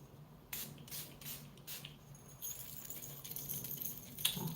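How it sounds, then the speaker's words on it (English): A few short, hissing spray bursts of sage spray sound up close, then a softer rustling mist lingers with faint clicks. "We're going to do some sage spray."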